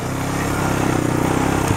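A Suzuki 230 Quad Sport ATV engine runs close by while being ridden at a dealership in Mansfield, Texas, a loud, steady buzzing drone with a fast pulsing rhythm and slight throttle variation.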